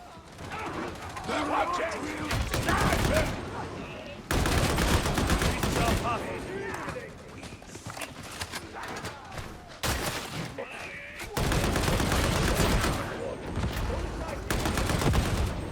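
Heavy automatic gunfire from the Agripinaa autogun in Warhammer 40,000: Darktide, loud sustained bursts in long stretches with brief pauses, mixed with game combat noise and a voice talking over it.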